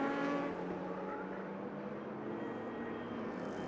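Racing cars in a Saloon Cars race, including a Porsche numbered 91, roaring past on a circuit: a steady, loud engine drone with high revving tones, continuous and close throughout.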